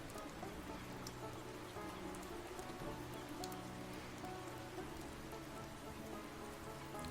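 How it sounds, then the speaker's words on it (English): Steady rain falling in the video game Fishing Shop Simulator, a dense continuous patter of drops on surfaces with occasional sharper drips, even and unbroken throughout with no talk. "I do like this this nice fishing in the rain though."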